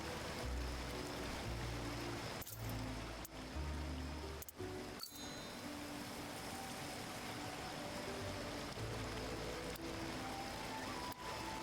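Waterfall in the Hello Kitty Island Adventure video game, a steady, soft rush of flowing water that continues throughout, with faint tonal game sounds and occasional soft clicks over it.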